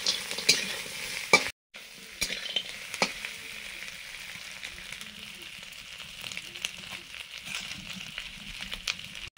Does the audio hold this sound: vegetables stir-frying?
yes